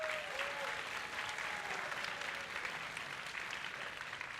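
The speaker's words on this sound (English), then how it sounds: "Give yourselves a round of applause" Steady applause from a large convocation audience fills the hall, dense and sustained at moderate distance with no speech over it.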